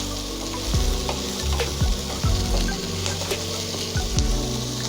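Diced onion cubes sizzle and fry in a hot pan, a steady crackling hiss with soft stirring scrapes and low thumps, close and continuous with no talking.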